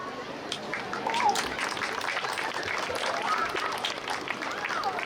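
Audience at a pool opening ceremony clapping in a steady, moderately loud wash of applause that lasts throughout, with murmured voices mixed in.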